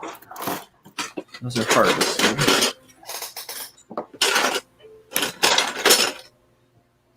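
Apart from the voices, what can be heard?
Lego parts rattling and clinking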